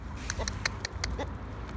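Broody hens and other chickens on a village farm give a few short, quiet clucks in quick succession, close by, with no talking.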